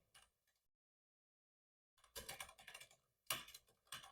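Java code being typed on a computer keyboard: a few quiet keystrokes, a long silent pause, then quick bursts of close clicking keys with short gaps between, no voices.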